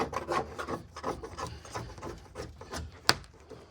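A flat scraper rasps and scrubs against a car windshield during dash and windshield removal on an Avenger GT 12, with repeated uneven scraping strokes close up and one sharp click near the end.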